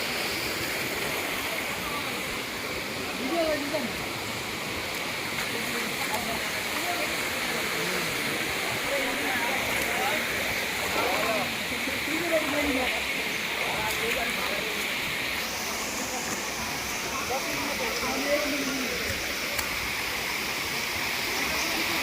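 Khoiyachora waterfall roars steadily and close, with people talking now and then over the constant rush of falling water.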